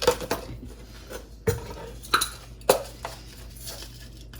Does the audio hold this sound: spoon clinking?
yes